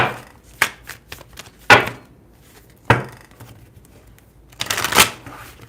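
Cards are shuffled in several crisp riffling bursts with pauses between them, close by, ending in a longer rapid flutter.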